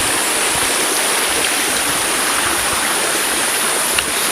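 A waterfall in rural Subang roars in a steady, loud, unbroken wash of rushing water, close by, with no voices over it.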